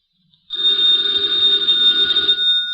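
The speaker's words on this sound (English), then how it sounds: "the ringing of that phone bell means adventure" An old-fashioned telephone bell rings continuously and loudly, a bright sustained metallic trill starting after a brief silence and holding steady to the end.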